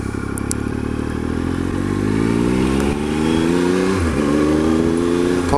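A Triumph Explorer motorcycle under way, its engine droning loud and steady with harmonics climbing as it accelerates, a brief dip near the four-second mark, then pulling up again, with wind and road rush throughout.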